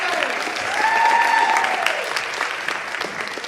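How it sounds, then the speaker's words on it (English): Audience applause at a poetry slam, a dense burst of clapping that swells in the first second and stays steady and full throughout, with whistle-like tones briefly rising above it. "let's give another round of applause for our teachers"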